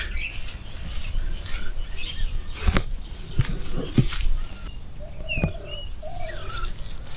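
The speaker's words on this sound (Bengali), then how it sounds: "শুধু পাখির ডাক ছাড়া আর কোনো কিছুই কিন্তু শোনা যাচ্ছে না" Birds calling across an open village field in rural Bangladesh, with scattered chirps and short whistled notes over a steady bed of insect buzz and faint outdoor ambience, no voices.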